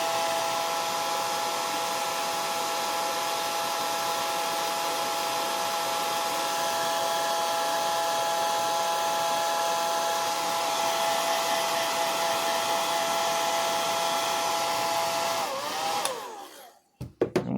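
A hair dryer drying paint on a figure: a steady, loud whirring blow with a constant motor whine that runs unbroken for about sixteen seconds, then cuts off abruptly, followed by a few brief handling knocks.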